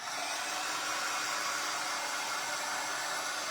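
A hair dryer blows a steady, loud, unbroken airy roar over wet paint on a paper bag witch hat, close and constant throughout, with no speech.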